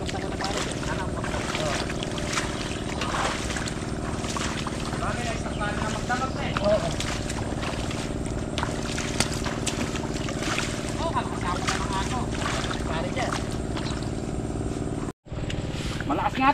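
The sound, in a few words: strong rush of falling water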